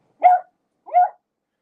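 A puppy gives two short, close barks about half a second apart, each a bright yip with nothing else around it.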